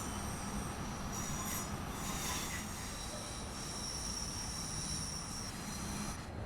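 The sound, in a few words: Class 390 Pendolino train running, from video game Train Sim World 6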